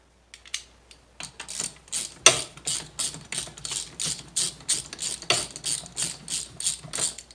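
Ratchet turning a 14 mm socket on the rear wheel of a 1988-2000 Honda Goldwing 1500, a string of crisp, close clicking strokes in steady rhythm after a few first clicks.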